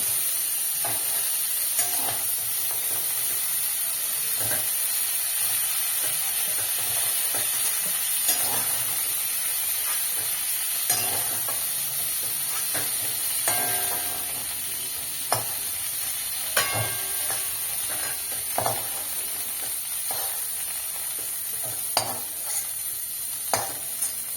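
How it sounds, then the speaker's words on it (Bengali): Cauliflower frying in a wok makes a continuous, even sizzle, close and moderately loud, broken by frequent clicks and scrapes of stirring. "খুব সুন্দর করে ফুলকপিটা ভাজা হয়ে গেছে, ফুলকপিটা একদম লাল লাল হয়ে গেছে"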